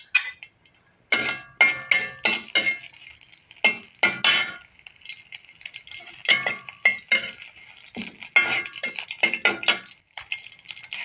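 Cumin seeds and three dried red chilies hit a little oil in a kadai, giving bursts of crackling and spattering broken by clinks and scrapes of a spatula against the metal pan, with short pauses between.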